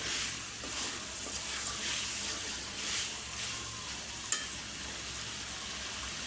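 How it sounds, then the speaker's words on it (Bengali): Potatoes and papaya frying in a pan, a soft steady sizzle with faint stirring and one brief clink of a utensil, heard close and alone. "ভাজা ভাজা করে বসায় নিলাম আমি আলু আর পেঁপে"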